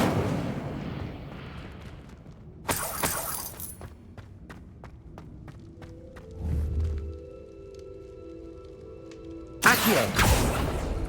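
Incendio fire spell cast in the video game Hogwarts Legacy: sharp fiery bursts and crackling blasts at the start and end, with a low whoosh and ringing tones between.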